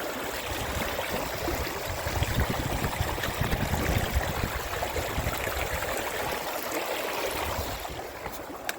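A swift stream rushes over big rocks at a trail water crossing on the Pacific Crest Trail, a dense, steady broadband wash of flowing water heard up close, with no talking.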